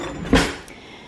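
A kitchen drawer holding silverware sliding and bumping shut, one short close thud with a brief rattle, heard alone in a quiet room.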